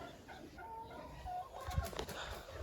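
Rooster on a small Ukrainian home farm raising turkey poults, giving a few short clucks and calls close by against faint barnyard background noise, with no talk.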